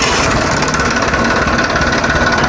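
A tractor engine runs at a steady idle close by, a loud, continuous low rumble and rattle with no pauses.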